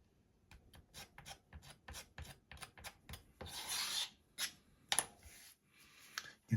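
Pages of a restored comic book are trimmed up close in a series of short, dry rasping strokes, irregular and quiet, with a longer scraping pass in the middle and silence between strokes.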